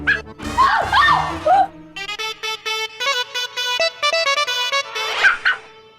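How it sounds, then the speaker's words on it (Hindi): A small puppy yips and whimpers indoors in a domestic scene, short high cries broken up by loud talking and melodic singing-like voices close by. "ये कुत्ता यहाँ नहीं रहेगा"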